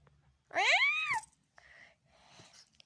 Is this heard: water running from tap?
no